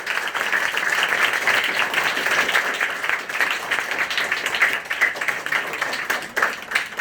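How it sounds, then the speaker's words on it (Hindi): A seated audience at a talk in Surat, Gujarat, applauds loudly and continuously for about seven seconds, a thick, sustained roar of many hands with only faint voices underneath. "एक बार जोरदार तालियों से सम्मान"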